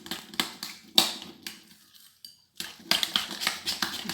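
Mascarpone cheese sauce stirred in a bowl with a utensil for a courgette and mushroom lasagna, close rhythmic scraping and clinking strokes with a brief pause midway before brisk stirring resumes.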